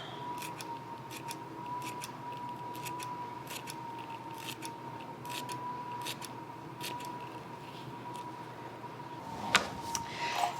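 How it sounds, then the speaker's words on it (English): Kitchen scissors snipping chives into a frittata mix with smoked paprika, a rapid series of crisp, close, quiet snips over a faint steady background hum, followed by a few light clinks near the end, with no talk. "I'm going to snip in our chives."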